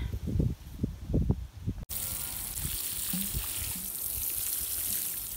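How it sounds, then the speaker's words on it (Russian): Water poured from a container onto tomato leaves to make fertilizer, a steady gushing wash that starts abruptly after a few soft handling knocks and continues close and even to the end. "Вот сейчас залью водой, будет порядок."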